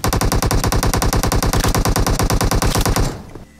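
Rapid, evenly spaced gunfire in the mobile shooter game PUBG Mobile, a loud, continuous burst of repeated shots lasting about three seconds before stopping abruptly.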